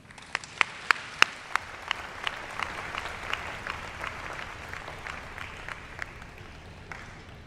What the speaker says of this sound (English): Please give another round of applause to our amazing principal